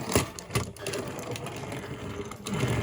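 Plastic gears of a Kabuto Gian beetle toy robot running in active mode, a steady mechanical whirr with small clicking ticks, close and fairly quiet throughout, no talking.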